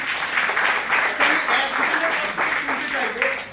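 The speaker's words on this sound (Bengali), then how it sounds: "একবার জোরে হাততালি নিয়ে যেতে চাই।" Audience applause fills a health products training session, a dense, steady patter of many hands clapping for a few seconds at fairly close range.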